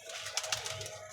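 A Sialkoti pigeon gives a short, soft coo, faint and close, with a few gentle pulses in about a second.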